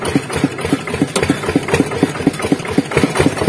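Small walking tractor engine converted into a ride-on tractor, running at a steady idle with an even, rapid knocking chug, close and fairly loud with no talk.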